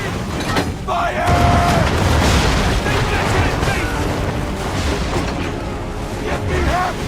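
Ship cannons firing in the naval battle game Assassin's Creed III, loud deep booms rolling through a dense battle din with shouted commands over them across the whole stretch.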